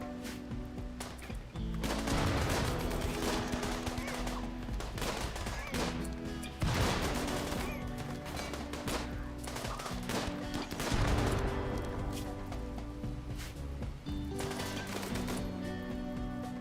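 Gunfire from colonist turrets and guns in the colony game RimWorld, bursts of shots recurring over a dense, loud game soundtrack, with no speech.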